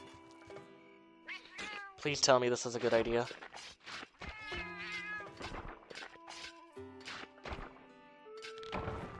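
A cat meows repeatedly in the Monster Hunter video game, a series of drawn-out, close, fairly loud calls with one louder yowl near the start, alongside a person talking and soft game thumps.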